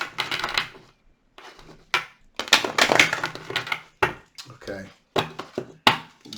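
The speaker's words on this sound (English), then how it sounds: "One more shuffle." A deck of tarot cards is shuffled by hand in a series of crisp, close riffling bursts separated by short pauses, with a brief spoken word in between.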